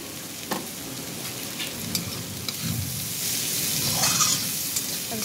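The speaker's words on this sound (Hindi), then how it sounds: "अब इसे थोड़ी देर हम और पकाएंगे" Chopped capsicum and onion sizzle steadily in a pan for pav bhaji, a continuous frying hiss with occasional louder crackles and a few soft stirring scrapes, close and without talk.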